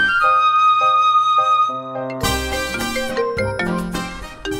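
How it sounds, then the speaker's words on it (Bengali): An incoming call sets off a mobile phone ringtone, loud and close: a few repeated chiming notes, then a fuller, busier melody of bright tones that keeps playing. "এই দাঁড়া, তো একটা কল আসছে।"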